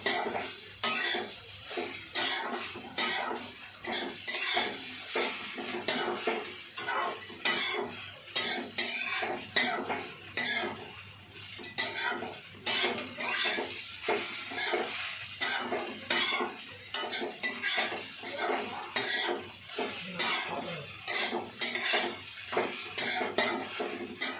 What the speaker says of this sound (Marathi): आता 5 मिनिटच कांदा भाजून घ्यायचा, जास्ती नाही भाजायचा.